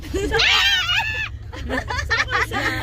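People in a vehicle on a desert safari ride scream loudly and in high pitch for about a second, then a group talks and laughs over a steady engine hum.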